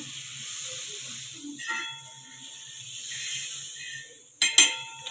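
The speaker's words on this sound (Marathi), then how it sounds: "तर आता तव्यामध्ये बटर टाकून घेणार आहे पूर्ण" Butter melts on a hot tawa with a faint, steady hiss and soft sizzle, ending in a couple of brief clattering knocks.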